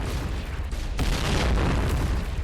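A grenade blast in the online shooter Point Blank erupts as a loud, rumbling burst about a second in, with dense, noisy debris and echo rolling on for over a second afterward.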